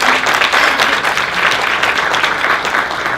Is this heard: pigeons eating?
no